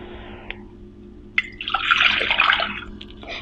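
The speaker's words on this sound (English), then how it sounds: "Place the pot on the burner and pour in the water." Water poured into a pot on a stove burner, a short splashing gurgle after a couple of light metallic taps, close and clear.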